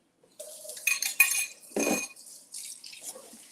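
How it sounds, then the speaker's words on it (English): Silverware and dishes clink and clatter in a kitchen sink during cleanup, several sharp metallic knocks with a splash of running water, close and fairly loud. "I know sometimes the silverware can get loud"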